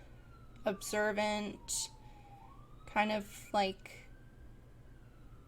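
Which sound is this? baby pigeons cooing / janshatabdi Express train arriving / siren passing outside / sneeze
siren passing outside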